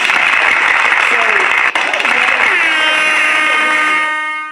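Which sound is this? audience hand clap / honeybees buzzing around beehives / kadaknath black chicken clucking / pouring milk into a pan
audience hand clap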